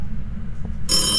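A telephone ringing in a ghost-hunting video game, starting abruptly near the end as a bright, loud electronic ring over a low ambient hum.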